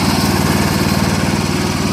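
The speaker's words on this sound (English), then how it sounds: "we're breaking the engine in on the first test drive" Cub Cadet 1250 garden tractor repowered with a Predator 420cc engine, running loud and close during its first break-in drive in snow, a steady, throbbing low engine drone with rapid regular pulsing and no talk.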